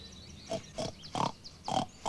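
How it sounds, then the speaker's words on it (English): A pig oinks in five short, evenly spaced grunts, close and clear, with no voices and nothing else heard around them. "for a pig."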